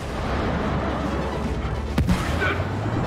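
Rockets slam into the player in the video game It Takes Two, giving a rumbling, booming barrage with one sharp impact crack standing out near the end.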